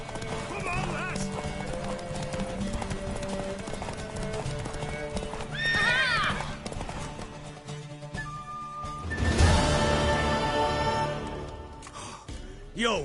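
In The Witcher 3, a mare's hooves clip-clop steadily at a run, with the horse whinnying a couple of times over music and game sounds.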